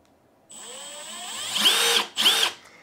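A Milwaukee M12 Gen 3 FUEL impact driver running in mode 3, the motor whining and rising in pitch, then two sharp, loud hammering bursts close by, with no talk.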